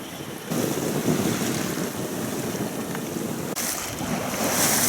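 A sailing yacht beats close-hauled through the Gothenburg archipelago, with loud, constant wind roaring across the microphone and waves rushing along the hull.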